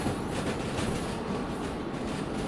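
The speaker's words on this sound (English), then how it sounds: "Like a heavy fucking train behind me." A heavy freight train in the Derail Valley game, hauling iron ore cars, rolls with a dense, continuous rumble and faint rhythmic wheel clatter, loud and close throughout, with no voices.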